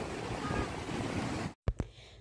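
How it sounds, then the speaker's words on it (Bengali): Sea waves surge at a Kerala beach in the rain, a broad steady roar of surf and wind close to the microphone that cuts out abruptly near the end, followed by a couple of brief thumps. "দেখতে পাচ্ছ এত এত ঢেউ আসছে, এতটাই ঢেউ আসছে"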